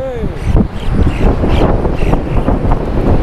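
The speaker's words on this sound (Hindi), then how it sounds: "भाई साहब ज़बरदस्त हवा चल रही है।" Strong wind buffets the microphone in the mountain village of Chitkul, a loud, rumbling gusty roar that carries through the whole moment while someone talks over it.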